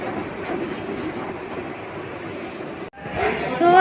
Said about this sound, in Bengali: এই যে চলে এসছে পুরী সুপারফাস্ট এক্সপ্রেস